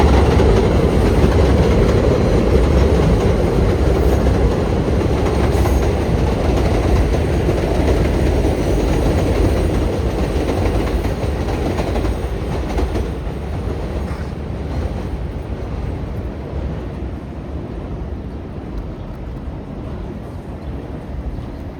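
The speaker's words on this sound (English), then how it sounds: "another train, another northbound train passing by" A northbound train passes by a street between Pelham Parkway and Allerton, a loud, steady rolling rumble with faint clickety-clack that slowly fades over about twenty seconds, with no talking.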